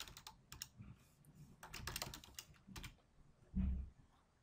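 Typing on a computer keyboard in bursts of quick clicking keystrokes, close and soft, ending with a heavier key press.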